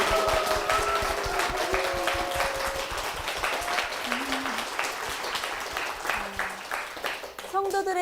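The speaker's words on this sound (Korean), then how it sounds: "우리 선교회와 권사님을 위해서 힘찬 박수 부탁드리겠습니다" A church audience applauds an artists' mission society, the Korean Artists' Mission. Steady, full applause runs throughout, with voices audible beneath it.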